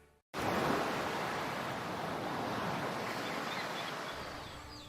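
Ocean waves in an advertisement: after a brief quiet moment a full, continuous wash of surf rushes in and holds steady, loud and close, slowly easing off with no voices.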